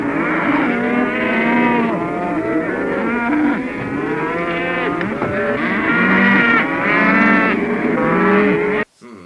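A herd of cattle moos continuously, many overlapping long, loud calls rising and falling together with no pause, cut off abruptly at the end.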